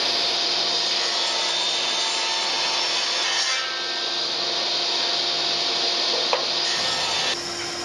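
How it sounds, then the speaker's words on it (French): Continuous loud whine of a circular saw cutting grooves along the edges of wooden boards for bathroom furniture, steady and close, with a brief drop in pitch midway and a change in tone near the end. "je réalise deux saignées sur chacun des champs à la scie circulaire"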